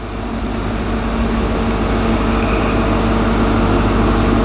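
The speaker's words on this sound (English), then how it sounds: "coming through is the 2+4 heading to Cardiff Central from Penzance" Class 43 power car 43016 leading a Penzance to Cardiff Central passenger train through a station near Exeter, a steady loud rumble of engine and rolling wheels with a faint wheel squeal, continuous throughout.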